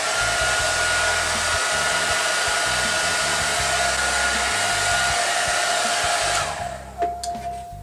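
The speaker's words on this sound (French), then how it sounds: "je vais parler avant de mettre le séchoir en route" A hair dryer blows steadily and loudly at close range while a synthetic wig is brushed, a constant whooshing roar with a thin whine that cuts off near the end, leaving quiet handling sounds.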